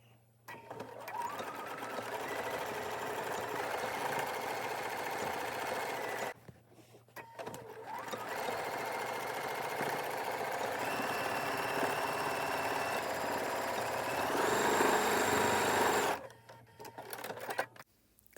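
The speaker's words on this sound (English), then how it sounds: "we will stitch 1/8 of an inch to the right of that seam right there. Using a straight stitch" A sewing machine runs a straight stitch along a zipper pouch seam, whirring steadily in two long bursts separated by a short pause, with a brief stop-start near the end.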